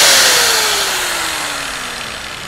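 A Premier DG 850 angle grinder switched on and running alone at close range, a loud steady motor whine that slowly drops in pitch as it winds down.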